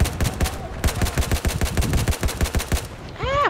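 Rapid automatic gunfire in Battlefield 4, a steady stream of loud close shots for about three seconds before it stops and a voice cuts in.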